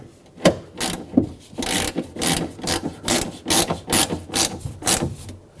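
Mounting nut being tightened onto the lower door handle stud of a 2011-2016 Ford F-350 Super Duty, a series of short rasping ratchet clicks and scrapes in quick irregular bursts, close and fairly quiet.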